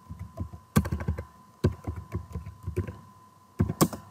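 Fast keystrokes on a computer keyboard, clattering in short bursts with brief pauses, close and fairly loud, with no talking over them.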